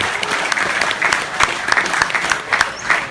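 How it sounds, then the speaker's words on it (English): An audience at a Bikes and Burgers fundraiser applauds motorcycle racer Don Emdy, a sustained crowd clapping with some cheering, fairly close and loud throughout. "Round of applause, Don Emdy, ladies and gentlemen."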